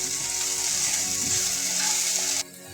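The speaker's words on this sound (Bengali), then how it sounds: "আমি 3 থেকে 4 মিনিট এটা ভালো করে ভেজে নিয়েছি।" Onions sizzle steadily in a hot pan with oil, a loud, close frying hiss with faint stirring scrapes, which cuts off abruptly near the end.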